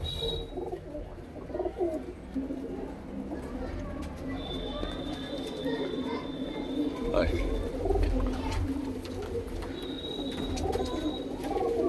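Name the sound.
pigeons cooing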